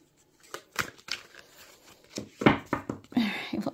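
Tarot cards being shuffled by hand, a run of soft papery riffles and flicks in uneven bursts, fairly close and moderately loud, with no talking over them.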